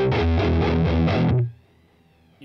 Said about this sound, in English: Kind of be finicky when you're running a lot of distortion and it can't quite overtake that.